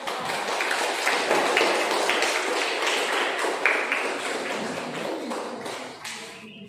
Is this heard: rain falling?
no